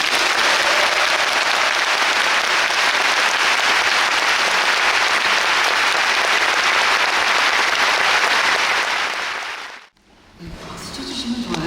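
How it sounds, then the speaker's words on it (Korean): A concert hall audience gives sustained, dense applause to welcome the Gyeonggi Philharmonic Orchestra and its conductor before a Verdi and Puccini opera program. The clapping stays loud and even, then cuts off abruptly near the end as faint voices follow. "경기 필하모닉 오케스트라와 정치영 지휘자님을 큰 박수로 모시겠습니다."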